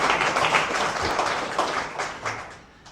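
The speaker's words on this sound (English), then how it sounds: "I'm still clapping, trust me." A crowd applauds at a Colorado Springs Switchbacks FC ownership announcement after the team's championship season, with steady, dense clapping from an audience at moderate distance that fades toward the end.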